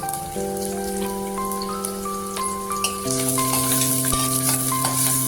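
Onion and garlic frying in a pan until reddish, a continuous crackling sizzle under steady background music tones, moderately loud.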